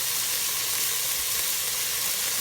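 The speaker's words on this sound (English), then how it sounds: "I'm going to add these seasonings now while I have oil in the pan" Crushed red pepper flakes and cumin sizzling in hot oil in a pan for chicken tortilla soup, a steady close hiss and crackle with no talk.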